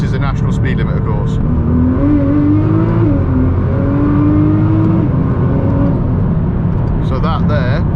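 A Nissan GTR fitted with a Litchfield ECUTek RaceROM tune accelerating hard in second gear on a road, its engine note climbing steadily and loudly under a continuous roar, with faint sounds at the start and end.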